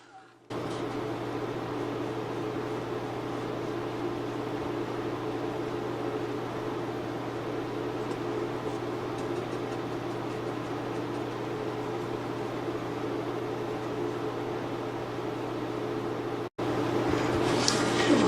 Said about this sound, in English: I'm going to blow dry that